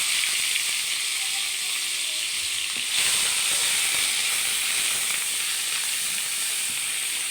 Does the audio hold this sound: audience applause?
no